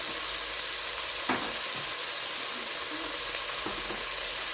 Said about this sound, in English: Let's just mix this up.